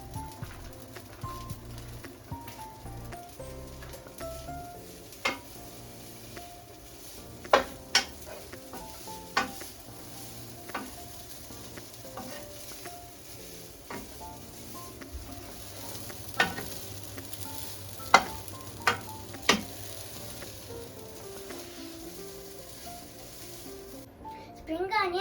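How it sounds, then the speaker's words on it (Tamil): Spring onion sautéing with yakisoba noodles in a pan gives a quiet, steady sizzle, with a scatter of sharp clicks and taps from the utensil against the pan. "நெக்ஸ்ட்டு நம்ம ஸ்ப்ரிங் ஆனியன் போட்டு கொஞ்சம் வதக்கணும்."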